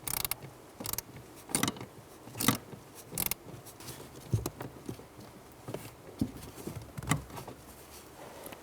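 A bolt being loosened with a hand tool under the dash of a 2002-2006 Honda CR-V, scattered metallic clicks and ratcheting ticks at irregular intervals, close and quiet.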